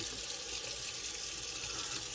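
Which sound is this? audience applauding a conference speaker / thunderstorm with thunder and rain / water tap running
water tap running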